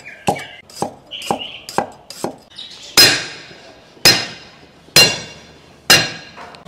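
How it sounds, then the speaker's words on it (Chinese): A kitchen knife chops scallions and ginger on a cutting board: a few light quick cuts followed by four loud, sharp chops spaced about a second apart, close and with nobody speaking. "葱姜切一下。"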